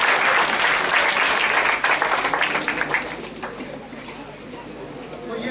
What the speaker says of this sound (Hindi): बैठ जाओ, इनके लिए भी तालियां बजाओ।